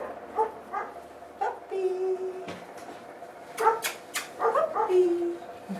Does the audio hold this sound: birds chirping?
no